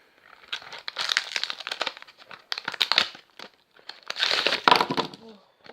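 Plastic packaging from a fidget spinner being unboxed, loud close crinkling and crackling in irregular bursts with brief quiet pauses between handfuls.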